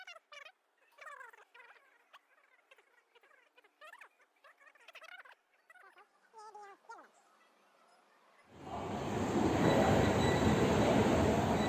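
A train at New Delhi railway station: murmuring voices and clattering platform sounds give way to a loud, steady rushing roar of the train that sets in abruptly and carries on to the end.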